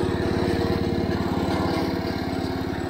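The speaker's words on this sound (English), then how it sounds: "I like to let it run a little bit just to cool that engine down" An IH Cub Cadet 149 lawn tractor engine idling after mowing: a loud, steady, close single-cylinder chug with an even rapid pulse and no pauses.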